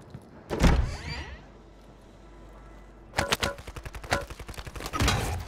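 Gunfire in Call of Duty: Warzone Resurgence, a sharp shot early, then a quiet stretch before a rapid automatic burst of evenly spaced reports and a final loud blast, with no speech.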